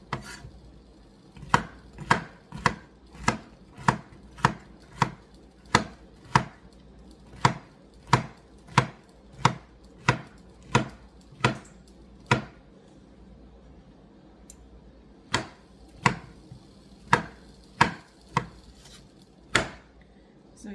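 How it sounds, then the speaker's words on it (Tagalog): Steady knife chops on a cutting board as small pieces are cut for homemade tofu miso soup, about twenty sharp, evenly spaced strikes, a brief pause near the end, then a few more, close and clear with no talking. "I'm just gonna chop these tiny"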